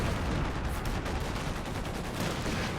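Bazooka fire and battlefield gunfire in the strategy game Company of Heroes 2, a dense, continuous crackle of shots and blasts at steady loudness with no clear single hits standing out.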